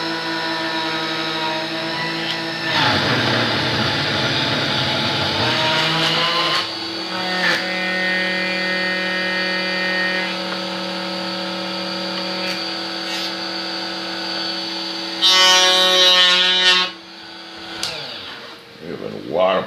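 A power tool cutting out plastic to make a battery location, its motor running up to speed with a steady, loud, tonal whine that shifts pitch and grows harsher toward the end, with some talk faintly underneath.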